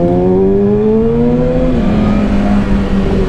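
A BMW S1000RR motorcycle engine revs loud and close, pitch climbing steadily, then dipping and settling, with no voices over it.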